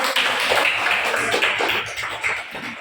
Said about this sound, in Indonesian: Semua kita berikan aplaus kepada